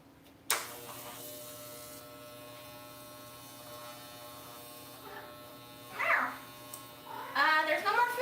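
An electric razor shaves hair, a steady close buzz switching on early and droning throughout, with brief voice sounds near the end.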